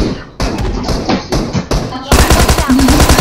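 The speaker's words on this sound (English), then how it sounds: "Just shooting." Video game gunfire comes in rapid automatic bursts, loud and close, with short gaps between volleys before a denser stretch of continuous shooting at the end.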